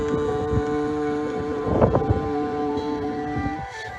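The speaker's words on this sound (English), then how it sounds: "It's getting a little bit windy, so I'm hoping it's not making too much noise for you." Wind buffeting a microphone outdoors during a guided meditation, gusty rumbling that swells in the middle over a steady tonal drone, then eases.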